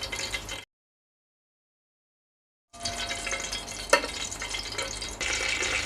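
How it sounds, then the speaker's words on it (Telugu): Green chillies fry in oil over a low flame, a soft crackling sizzle near the pan, briefly cut out by two seconds of silence before resuming with a small clink. "ఇప్పుడు వీటిని లో ఫ్లేమ్లో ఫ్రై చేసుకోవాలి."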